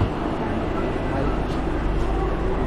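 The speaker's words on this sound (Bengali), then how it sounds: "এটি বন্দে ভারত এক্সপ্রেস" A Vande Bharat Express train on the Kolkata to Darjeeling route rumbles with a loud, steady low roar throughout, with a constant rolling drone and no clear breaks.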